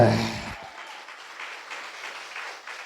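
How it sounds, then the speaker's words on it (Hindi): A church congregation claps loudly during a sermon: a brief voice opens, then dense, steady clapping carries on for nearly three seconds. "ताली बजाओ जोर से।"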